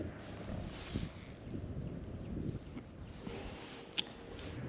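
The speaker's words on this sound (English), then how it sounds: "Okay, we got more wind." Low, blustery wind buffets the microphone outdoors on a bass fishing outing, a steady rumbling gust with one brief click near the end and no talking.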